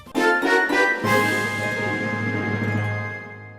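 A short video game jingle: a few quick bright notes followed by a sustained chord that rings out and slowly fades.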